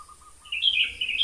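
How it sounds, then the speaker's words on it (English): A sooty-headed bulbul sings a short run of bright, warbling notes, clear but moderately distant over a quiet background. "You can hear the kutilang."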